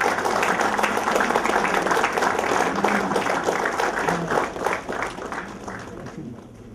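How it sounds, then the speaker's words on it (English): Audience applause at a business association event in Mumbai as dignitaries on the dais release a souvenir, a dense, sustained clapping from a sizable crowd that stays loud throughout and only slightly thins toward the end. "A huge round of applause."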